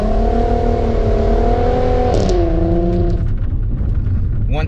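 An all-wheel-drive car on winter snow tires launches hard, its engine note rising in a steady climbing drone that dips and shifts pitch midway, heard close and loud throughout.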